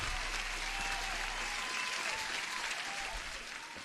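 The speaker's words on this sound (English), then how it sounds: "Huge applause to Gaurav, member of our Discord" Dense, steady applause sound effect, a continuous wash of many hands clapping at even loudness throughout, with no talk over it.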